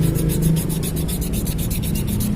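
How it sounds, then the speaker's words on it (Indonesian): Sandpaper rubs rust off a brake piston in fast, steady back-and-forth strokes, close and continuous, with no voices. "Ini harus kita amplas, pakai amplas seperti ini ya"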